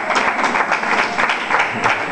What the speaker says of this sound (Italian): gli applausi dei presenti